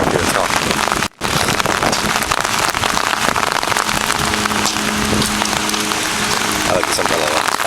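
Heavy thunderstorm rain pours down in a dense, constant hiss on surfaces close by, with a brief dropout near the start and faint voices underneath.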